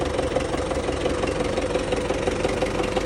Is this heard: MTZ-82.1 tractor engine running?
yes